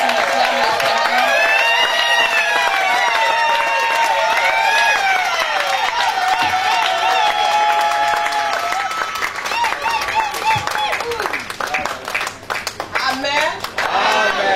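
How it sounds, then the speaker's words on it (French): A church congregation at a women's convention claps and cheers loudly and continuously in acclamation, with voices singing and calling out throughout and the crowd noise thinning slightly toward the end. "Pendant qu'elles avancent, on acclame le Seigneur."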